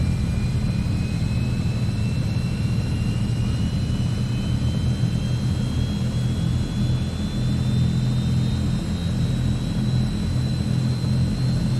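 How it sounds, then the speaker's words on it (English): A C160 Transall turboprop engine starts up in a flight simulator with a loud, continuous low roar and a high whine that climbs steadily in pitch as the engine spools up, with no talking. "And with that our engine is now starting up."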